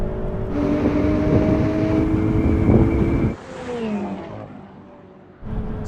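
A Ferrari 488 Pista accelerates hard from a launch on a track, a loud rising engine roar with gear changes, buffeted by wind noise, then easing off before picking up again.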